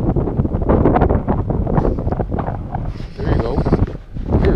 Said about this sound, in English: it sucks that the wind is blowing